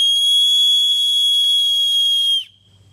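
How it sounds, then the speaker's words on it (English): A loud, piercing keychain whistle blown as one steady shrill tone for over two seconds, then cut off, leaving quiet. "It's a pretty loud whistle."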